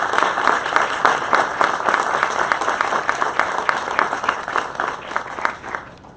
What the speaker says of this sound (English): Please join me in giving Darren a round of applause.